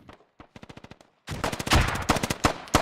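Rapid automatic gunfire in the military shooter Squad, loud bursts of close and distant rifle and machine-gun fire rattling continuously over a bridge crossing, a short lull before a denser overlapping fusillade.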